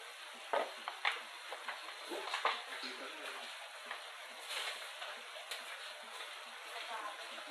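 Pork bicol express stirred in a pan, with scraping utensil strokes over a steady low sizzle, close by, and a few brief clinks.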